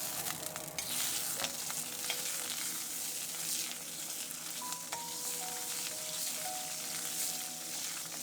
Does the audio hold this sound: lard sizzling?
yes